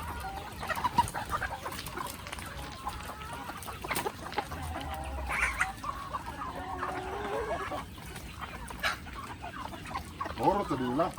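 A rooster clucks and crows among farm sounds while people talk, the calls fairly faint and intermittent.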